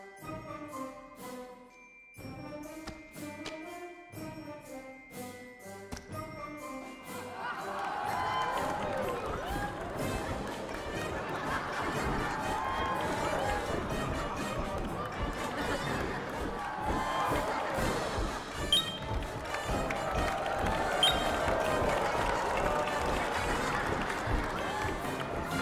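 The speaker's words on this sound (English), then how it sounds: "Clapping. Yeah, it's clapping him." A crowd in the video game Trio of Treasures bursts into clapping and cheering after a short musical jingle, a loud, busy din that continues to the end.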